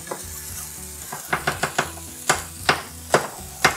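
Peppers and onions fry to a toasty finish in a pan, a steady close sizzle broken by a run of sharp spatula clacks and stirring scrapes, with no talking.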